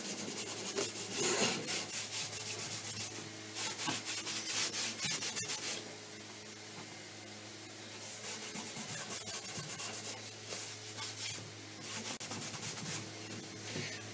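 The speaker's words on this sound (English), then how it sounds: "I'm going to put some wax on a few more boards just so it kind of marries them up a little bit better." Wax being rubbed by hand onto pallet wood boards, a steady dry scuffing and scraping that comes in long continuous bursts with a brief quieter pause midway, close and fairly loud.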